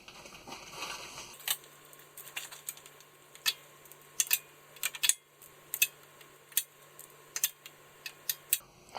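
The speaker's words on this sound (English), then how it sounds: "So I'm going to get my ratchet up in there and hopefully she clicks" Sharp, quick metallic clicks ring out in irregular bursts over a quiet background as a ratchet is worked back and forth during a 2012 Ford Explorer power transfer unit fluid exchange.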